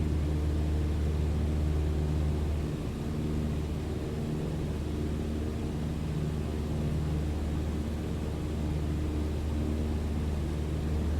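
Airplane engine in Microsoft Flight Simulator gives a steady, low, even drone blended with continuous wind rush, unbroken and without talk for the whole stretch.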